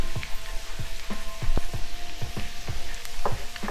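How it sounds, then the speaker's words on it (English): Garlic butter sizzling in a hot pan, a steady close crackle with repeated sharp pops and spatters, no talking. "Let me let the sizzle stop. That's the garlic."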